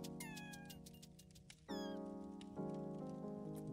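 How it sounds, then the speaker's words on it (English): A cat meows repeatedly over game audio, several clear, close mewing calls that rise and fall in pitch, with a steady electronic backdrop from a video game running underneath. "Is that a cat meowing?"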